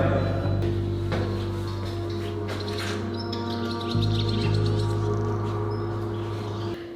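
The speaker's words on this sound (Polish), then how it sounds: "Słyszycie tego ptaka gdzieś tutaj?" Birds chirp and tweet in short repeated bursts over a steady low hum, moderately close, with no talking.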